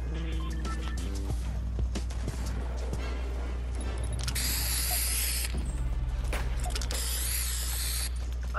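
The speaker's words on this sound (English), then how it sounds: "I spray painted him." Spray painting in the Fortnite video game: two sustained hissing bursts of spray over a dense, continuous bed of game sound effects and music.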